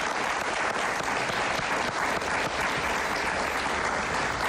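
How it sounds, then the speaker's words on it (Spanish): Studio audience applauding a guest on a Spanish-language talk show, dense, continuous clapping that stays loud and even from start to finish with no talk over it. "Un aplauso para ella, por favor."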